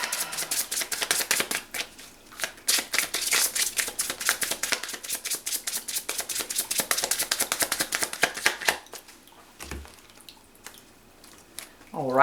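Oracle cards being shuffled, with dense rapid riffling flutters that come in steady bursts and sound close. A brief pause and a soft thump come near the end.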